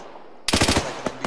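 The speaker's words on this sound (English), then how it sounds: "I'm just seeing a bunch of friendly shots go off" Friendly automatic gunfire in the military shooter Arma 3: a tight rapid burst of shots crackles out sharply after a moment of quiet, then a lone later shot, fairly near and loud with no talk.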